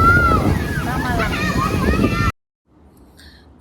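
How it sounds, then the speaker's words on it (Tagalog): Strong wind buffeting the microphone at a beach club, a loud steady roar that cuts off abruptly into near silence. "Malakas naman ang hangin dito."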